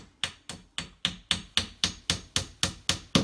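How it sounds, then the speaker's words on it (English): Steel Corefix dot-and-dab wall fixing cores get gentle hammer taps, about a dozen close, even knocks at a steady rhythm, each a sharp metallic tick with a short ringing decay, near and moderately loud with no talk. "Again, a gentle tap on them. Same for the bottom."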